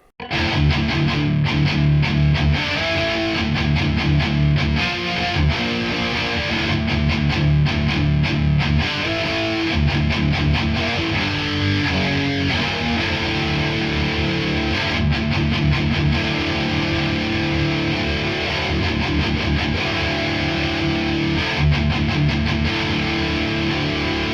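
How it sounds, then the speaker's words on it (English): An ESP LTD EC-10 electric guitar on its neck pickup plays sustained high-gain chords and riffs, heavily distorted, with a thick, warm tone that stays loud and dense throughout. "Not made for high gain rhythm tone. Neck position."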